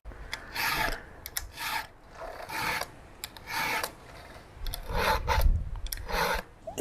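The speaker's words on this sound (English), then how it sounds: "got my chain on there. Let's get it sharpened up and get into the woods." A file rasps against a chainsaw chain to sharpen it, about ten short, close strokes in an uneven rhythm with brief pauses between them.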